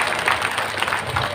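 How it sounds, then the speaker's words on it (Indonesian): A brief burst of clapping from an audience at a comedic talk event, dense and fairly close, lasting only a moment. "Tepuk tangan dulu buat Kabupaten Rohul."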